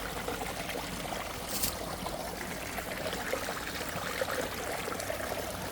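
A creek on hill trails flows under a small bridge, a faint, steady trickling and babbling of running water that continues without a break.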